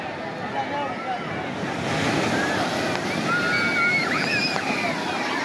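Ocean waves surge and break on the crowded beach at Digha, a loud continuous roar with wind buffeting the microphone, while people shout and chatter faintly in the background.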